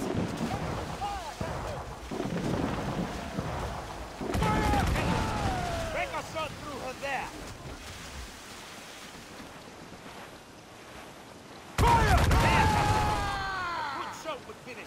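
Cannon fire from sailing ships in the video game Assassin's Creed Freedom Cry, heavy broadside booms over ocean surf and wind, with shouted voices between the blasts and a loud volley near the end.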